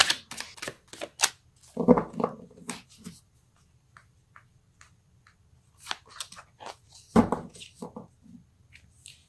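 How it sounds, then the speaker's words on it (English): Tarot cards are shuffled and pulled in short bursts of soft papery riffles, snaps and clicks, scattered across quiet pauses. "Let's pull a card for your emotional space."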